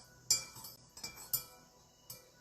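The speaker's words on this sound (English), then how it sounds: "I'm just getting a metal spoon to kind of stir this up in the water." A metal spoon clinks against the sides of a glass measuring cup while stirring oil drops into water, giving four or five sharp, close, fairly quiet taps at irregular intervals.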